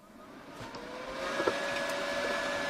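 A Grovers Cut40 plasma cutter powers up with a rising steady whir like a fan spinning up, a faint click near the start and a thin electronic whine settling into a continuous hum.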